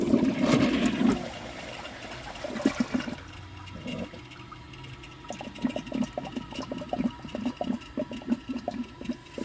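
A 2012 Jacuzzi Perfecta toilet flushes during a clog test, a loud rushing surge of water that drops off after about three seconds into gurgling refill and a rhythmic trickling, dribbling flow.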